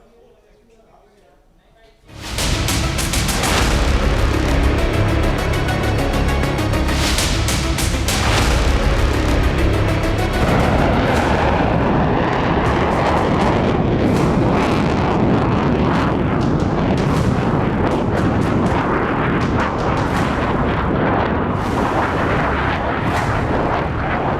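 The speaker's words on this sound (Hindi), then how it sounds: "अमेरिका का एटमी धमाका।" A huge US nuclear test explosion erupts suddenly after a quiet start, then becomes a loud, sustained rumbling roar that fills the rest of the clip.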